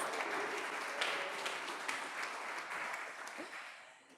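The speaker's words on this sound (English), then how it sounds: "I think that deserves a round of applause." An audience at a startup showcase applauds continuously, a dense wash of clapping that stays fairly even before fading toward the end.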